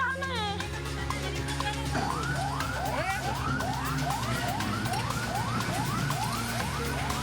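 A fire truck siren sweeps up and down in loud, repeated wails close by, over a low engine rumble and background noise at a building fire in Padaelo village, Maros, South Sulawesi.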